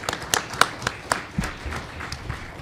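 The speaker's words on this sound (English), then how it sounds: "So maybe a round of applause for our panel too." Audience claps for a biochar panel discussion, a scattered, fairly close round of individual claps with distinct sharp strikes, thinning out toward the end.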